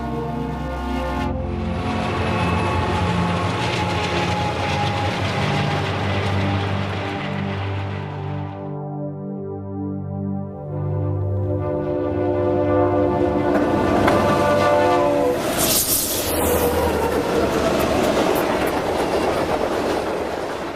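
A Union Pacific train rumbles through Afton Canyon in the Mojave Desert, loud and sustained with rhythmic clickety-clack of wagons, fading briefly before the next cars roar past again.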